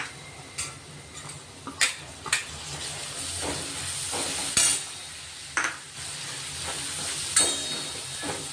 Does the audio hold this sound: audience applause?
no